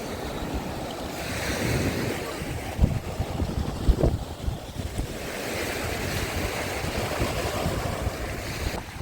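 Sea waves wash onto the beach at Arkadia in Odesa, a steady broad roar of surf with wind buffeting the microphone and a couple of louder breaking crashes, without speech.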